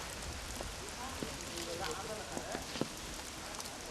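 Steady rain pattering on a rooftop garden where workers plant trees in soil, a dense even hiss with scattered drips and light knocks, moderately faint with no speech.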